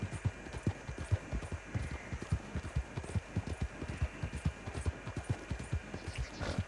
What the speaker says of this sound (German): jetzt reite ich mit dem Pferd voll Galopp